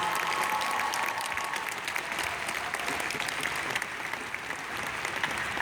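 Steady, dense applause from a large crowd fills a Pierce College graduation ceremony, honoring the graduates' families and friends, sustained at even loudness throughout.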